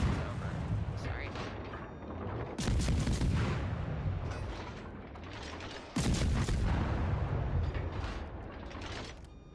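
Naval guns fire in a warship video game, heavy booming salvos with a big blast near 2.6 seconds and another at 6 seconds, rumbling between shots, with someone talking at times.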